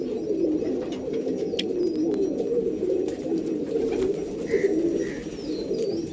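Andhra breed pigeons cooing at close range, soft repeated low throaty coos over a steady murmur, with a few faint higher chirps and light rustling in between.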